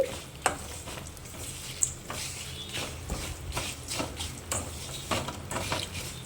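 Chutney ingredients, including amaranth greens, fry in a pan with a steady sizzle while a spoon stirs and scrapes at a regular pace, producing sharp clinks against the metal now and then.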